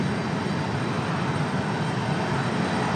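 Steady broadband roar of a PSA Airlines regional jet with retro livery holding in line at Raleigh-Durham airport, engines running continuously and fairly near without talk.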